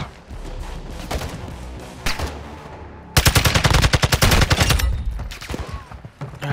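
Video game gunfire in a multiplayer shooter: a steady roll of automatic shots first, then a loud, dense machine-gun burst of rapid evenly spaced rounds that dominates the second half, close and harsh with no talk.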